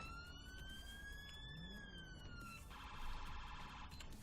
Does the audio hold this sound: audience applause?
no